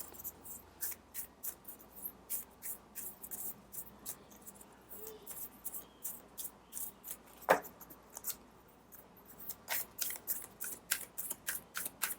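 Repeated soft riffling and crisp snapping bursts of a card deck being shuffled close by, in quick irregular rhythm with brief pauses, no voices.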